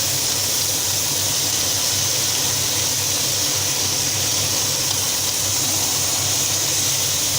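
Veal kidneys sizzling in a very hot pan, a steady broad frying hiss that stays even and close for the whole stretch, with no talking.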